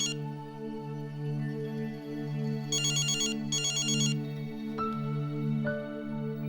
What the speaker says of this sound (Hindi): फोन में नहीं उठाती